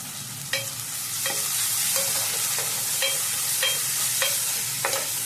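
Tomatoes and onions sauté in a pan for suthumbu meen kulambu, a fish curry, with a continuous sizzle broken by regular scraping stir strokes every half second or so. No one speaks.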